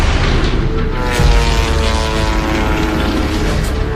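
A World War I era propeller airplane, the Kettering Bug unpiloted drone, drones loudly and steadily with a dense, continuous engine roar and buzzing tone throughout, close and unbroken, with no voices.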